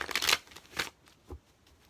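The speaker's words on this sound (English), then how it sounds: "I'm trying to shuffle." A deck of tarot cards being shuffled by hand close up, two quick riffling bursts followed by a softer tap as the cards settle, no talking.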